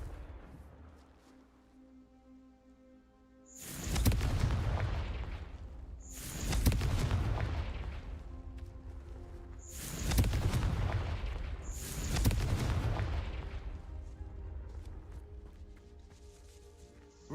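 Confringo blasting spells from the Hogwarts Legacy video game go off as four loud, booming explosions a few seconds apart, each hitting sharply and then rumbling away, with a quiet musical background between them.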